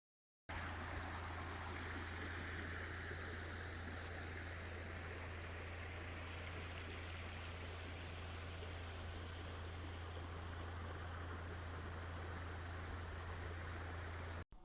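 The Nicholson River flowing steadily, a continuous rushing wash with a low hum underneath, no voices.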